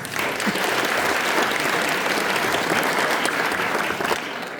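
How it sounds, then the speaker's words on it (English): Audience applause at the FOSSASIA Summit 2026 closing, a sustained, dense wash of clapping from a large conference crowd lasting several seconds and easing slightly at the end. "big round of applause for the lead sponsors here at the event"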